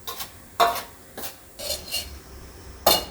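Dry flour, baking soda, salt and powdered sugar are mixed in a bowl for bhature dough, giving several brief scraping and clinking strokes at uneven intervals against a quiet background.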